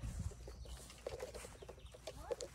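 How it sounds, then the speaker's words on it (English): Chickens cluck softly in a few short, scattered bursts, close by and without any talk. "I got chickens going over."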